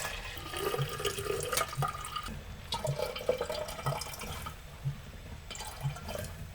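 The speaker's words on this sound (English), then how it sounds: "After the cha, the tea brew, after they cool down, pour them into the jar." Cooled tea brew is poured into a jar aboard a sailing catamaran, a soft trickling and splashing liquid sound heard up close and quietly, with faint regular ticks in the background.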